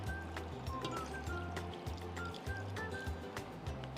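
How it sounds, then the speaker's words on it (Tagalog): Water poured into a pot of adobo mixture with soy sauce, crushed pepper, sugar, onion, garlic and bay leaves, a faint continuous trickling pour running steadily throughout, no talking. "lagyan natin ng tubig."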